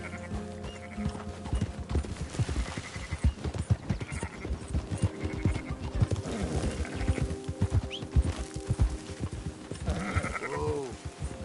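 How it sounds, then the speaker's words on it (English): Horse hooves clip-clop in a steady, close rhythm in the Red Dead Redemption 2 video game, with a faint animal call near the end and no talk. "That horse don't listen."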